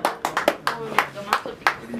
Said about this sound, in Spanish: ese aplauso bien fuerte que se escucha bien bonito